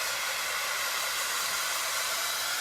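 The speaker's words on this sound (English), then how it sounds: "I'm going to just zap these real quick with the heat tool just to make sure that they are all dry" Heat tool blowing hot air over a stack of painted books to dry them, a continuous, even airy whoosh heard up close and alone for the whole stretch.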